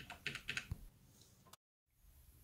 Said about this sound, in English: Let's also test it with the built-in keyboard test tool of Atari.